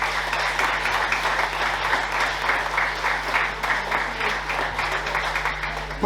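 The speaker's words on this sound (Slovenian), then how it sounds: "Še en aplavz, prosim" Steady audience applause at a Slovenian children's book award ceremony, a dense even wash of clapping that holds at a constant level from start to finish, with a low hum underneath.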